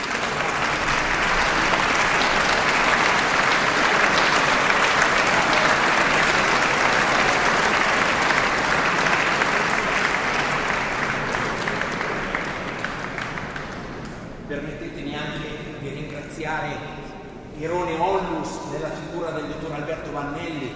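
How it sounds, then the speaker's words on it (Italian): Dense, sustained applause fills a church in Milan after a performance of Mozart's Requiem, a loud steady wash of many hands that thins out and fades after about fourteen seconds into scattered claps and crowd noise. "siamo noi che facciamo un applauso a voi tutti"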